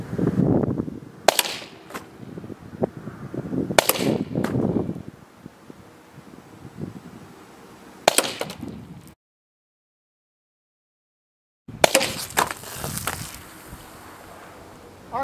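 A Pepperball VKS launcher fired handheld at small bottles outdoors, several sharp pneumatic cracks spaced a few seconds apart amid light rustling, with a brief silent gap before more shots and clatter.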